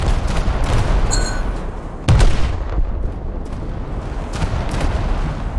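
Naval gunfire in a warship battle video game, with a loud deep boom of heavy guns partway through over a constant rumbling battle din, plus a few scattered sharper shots, no speech.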